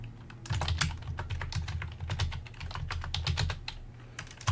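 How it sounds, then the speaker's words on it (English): Rapid close-up keystrokes on a computer keyboard as a password is entered, irregular bursts of clicks with short pauses and no talking. "Enter password for Dan."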